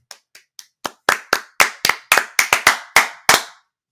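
Hands clap about thirteen times, close and sharp. The first few claps are soft, and the rest are loud with an uneven, quickening rhythm, with no talk in between.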